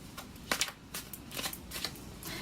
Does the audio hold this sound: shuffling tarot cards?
yes